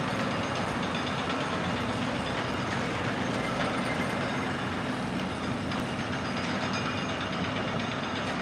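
Steady distant jackhammering near the SpaceX Starbase launch site in Boca Chica, Texas, a mechanical rumbling with a dense rattling texture, droning on without pause, no voices.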